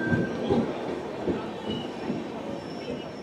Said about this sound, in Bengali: so finally Radhikapur Howrah Kulik express ঢুকছে